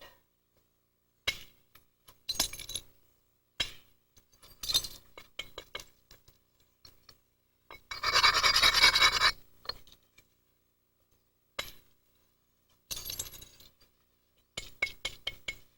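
Novaculite stone is worked by flintknapping: sharp clinking strikes and short flaking ticks come in bursts, with a longer stretch of harsh rasping grinding in the middle, separated by near silence.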